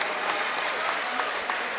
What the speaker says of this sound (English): Huge crowd here at Frankston.